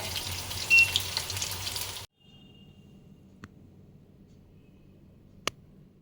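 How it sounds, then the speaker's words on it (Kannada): Peshawari chicken kebabs fry in hot oil in a pan beside a second batch of plain kebabs, a loud steady sizzle that cuts out abruptly after two seconds, leaving a quiet room tone broken by a couple of sharp clicks. "ಇಲ್ಲಿ ಪೇಶಾವರಿ ಕಬಾಬ್ ಫ್ರೈ ಆಗ್ತಿದೆ, ಇಲ್ಲಿ ನಾರ್ಮಲ್ ಕಬಾಬ್ ಫ್ರೈ ಆಗ್ತಿದೆ."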